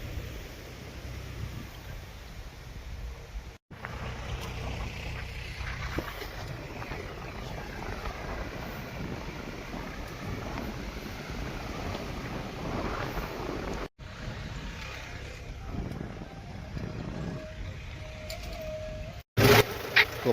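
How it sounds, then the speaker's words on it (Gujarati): While sorghum is sown in the field, a tractor engine hums steadily and close, mixed with gusty wind noise and broken by a couple of short cut-outs. "આ છે ટ્રેક્ટર આપણે હાલી રહ્યું છે."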